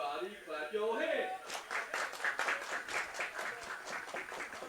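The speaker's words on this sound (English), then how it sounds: "Bigfoot fans clapping it up" Fans at a Boone Bigfoots baseball game clap in a steady rhythm, moderately distant, after a brief voice at the start.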